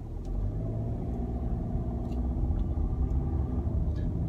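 Steady low engine rumble and road noise from a Land Rover Discovery Sport cruising smoothly on the road, heard from inside the cabin with no talking.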